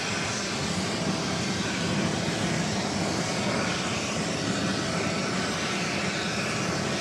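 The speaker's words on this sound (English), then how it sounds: "that is Aer Lingus, Flight 105, coming up from Dublin" An Aer Lingus Airbus A330-300 arriving at New York JFK from Dublin gives a steady, broad jet-engine roar that holds evenly throughout at moderate distance, with no voices.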